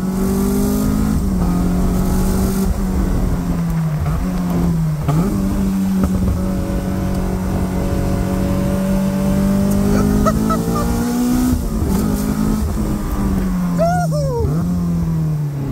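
A Caterham 485 S sports car engine revs hard and continuously, rising and falling through gear changes while drifting, loud and close, with occasional faint squeals.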